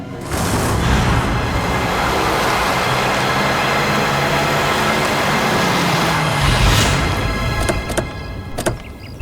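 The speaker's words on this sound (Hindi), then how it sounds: "इतना फास्ट गाड़ी चलाता है" A car speeds along in a drama scene, a loud, continuous engine and road roar with a rising whoosh near the end, followed by a couple of sharp knocks.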